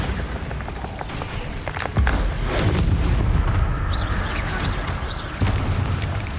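The Bombardo spell in Hogwarts Legacy bursts as a deep, booming explosion, with heavy rumbling thumps at about two seconds and again near five seconds over a continuous roar of game combat, no voice present.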